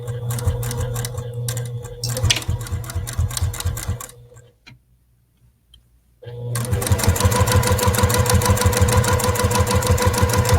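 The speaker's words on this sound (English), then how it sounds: "have y'all ever gotten your fingers in the way of a sewing machine?" A sewing machine stitching a fabric bowl runs in fast rapid mechanical bursts, loud and close, stopping briefly for a couple of seconds of near silence before starting again.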